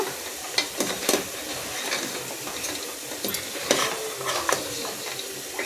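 A spoon stirs goat head curry in a hot pan after tempering, with steady frying sizzle and irregular metallic scrapes and clinks against the pan.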